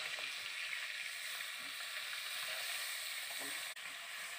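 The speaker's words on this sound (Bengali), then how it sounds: "তো মাছগুলোকে আমি ভালো করে একটু ভেজে নিচ্ছি।" Fish pieces frying in oil in a pan, giving a steady, close sizzle with faint crackles throughout and a momentary break near the end.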